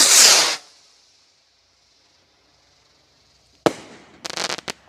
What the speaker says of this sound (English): I love the sound of rockets.